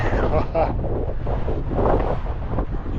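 Strong wind buffets the microphone at a wild camp high above England's deepest lake, gusting in loud rumbles while someone talks over it.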